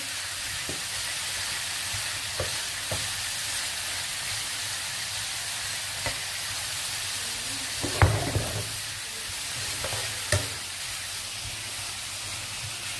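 Chopped tomatoes fry in a hot pan, giving a steady close sizzle and hiss throughout, with a few soft clinks and stirring knocks from a utensil.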